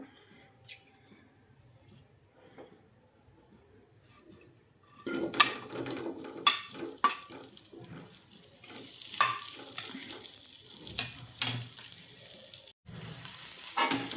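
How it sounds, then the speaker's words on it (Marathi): Coated okra deep frying in hot oil gives a steady, moderately loud sizzle that swells after a quiet start, with scattered clinks of a utensil against the pan and no talking. "आणि ही जी भेंडी आपण कोट करून घेतलेली तर ही सगळी फ्राय करून काढायची आपल्याला"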